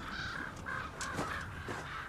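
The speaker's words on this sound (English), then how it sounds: "Y'all know what those crows mean." Several crows caw in a scene from a Game of Thrones episode, a handful of harsh, fairly distant calls over a soft background.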